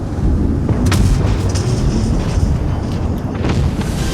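Tank cannon fire in a tank video game, deep booming blasts with a sustained heavy rumble, loud and close, several shots rolling into one another with no talk.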